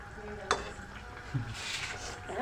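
Spices temper in hot oil with a soft, steady sizzle, and a utensil stirs the pan with an occasional clink, all heard up close in a home kitchen.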